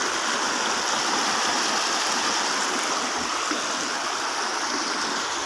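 Stream water flows steadily at a rural fishing spot, a dense, continuous rushing wash that stays close and even, with no talk.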